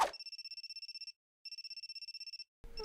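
A phone in the video game Amnesia Memories rings with two bursts of rapid electronic trilling separated by a short pause, clean and alone.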